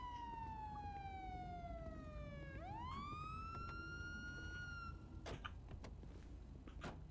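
A single police siren wail sweeps down then rises and holds, faint and distant over steady low traffic rumble, followed by a few clicks.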